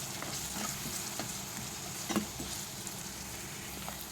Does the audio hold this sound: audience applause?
no